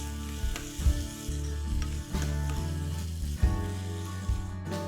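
Curry leaves and finely chopped green chillies with crushed ginger-garlic sizzle and crackle steadily in hot oil during tempering, with a few louder pops and bursts as the leaves hit, close and continuous with no talking.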